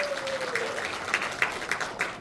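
Applause from an audience at a Korean lawmaker's political report meeting in Cheongju for a party provincial chairman, a brisk, moderately loud patter of clapping that runs briefly and evenly throughout.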